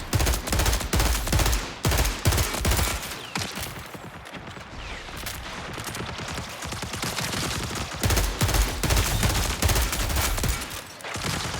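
Rapid gunfire from an enemy commander and his clones in a shooter video game comes in repeated loud bursts and volleys, close and sharp, with short gaps between the barrages.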